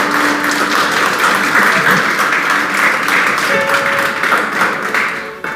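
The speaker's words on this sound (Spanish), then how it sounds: "Dar un aplauso al Señor en esta mañana." A church congregation applauds the Lord during a Sunday morning Spanish-language service, steady loud clapping filling the room for several seconds before tapering at the end.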